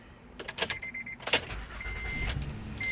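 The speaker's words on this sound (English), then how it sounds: "I'm gonna start the car." A Honda Acura car: a few clicks and a thump, then dashboard chimes, and the engine catches with a low rumble that settles into a steady idle, heard from inside the cabin.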